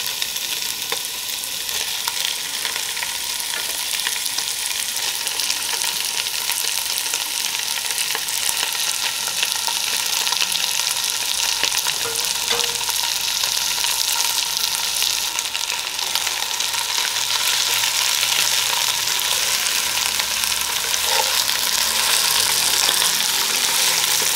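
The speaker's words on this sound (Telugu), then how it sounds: "ఇప్పుడు కంజుపిట్ట మాంసాన్ని వేస్తున్నాను." Quail meat fries in a pan with ginger-garlic paste, a steady close sizzle running unbroken throughout with faint scraping of stirring, no voices.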